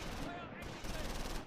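Dense bursts of rapid gunfire crackle on and off in the Close Combat war game, a steady fusillade of shots, moderately quiet and continuous across the short stretch.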